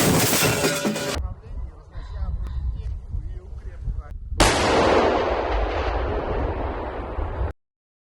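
Russian Akatsiya self-propelled howitzer firing at Ukrainian positions. One huge boom is followed by a long rolling echo, and a loud blast comes mid-clip before the sound cuts off abruptly.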